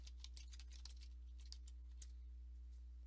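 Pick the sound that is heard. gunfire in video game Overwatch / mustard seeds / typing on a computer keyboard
typing on a computer keyboard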